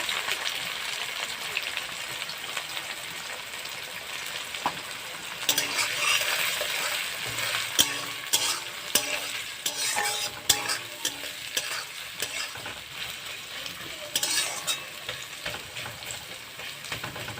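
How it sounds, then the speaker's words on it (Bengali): Onion and mashed roasted eggplant fry in a kadai with green chillies, giving a constant crackling sizzle with spatula scrapes and clinks growing busier midway, close and fairly loud. "এবার পেঁয়াজ দেওয়া বেগুনটাকে ভেজে নেব কড়াইতে ভেজে কড়াইতে পেঁয়াজ লঙ্কা"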